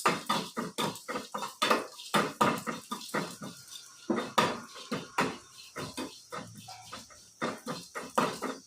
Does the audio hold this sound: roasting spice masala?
yes